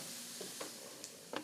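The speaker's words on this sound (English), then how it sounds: "And it smells really good already because frying onions," Onions frying in a pan give a quiet, steady sizzle with a few soft clicks and stirring taps scattered through it, heard close up with no one speaking.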